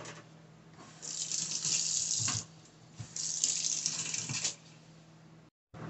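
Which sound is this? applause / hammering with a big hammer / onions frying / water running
water running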